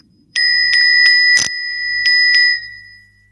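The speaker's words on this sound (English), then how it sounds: "Ring the damn bell." A small hand bell rung sharply several times, bright ringing strikes in a loose rhythm with sustained shimmer between them, loud and close, with no talking.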